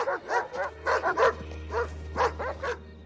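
Dogs outside a house bark repeatedly in an irregular series of sharp yaps, fairly close, over a steady low hum.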